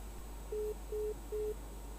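Telephone busy signal on a radio call-in line after the caller hangs up: three short, even, steady tones in a regular pattern, faint and alone over low line hum.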